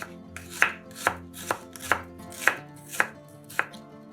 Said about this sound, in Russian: Одну-две луковицы нарезаем полукольцами.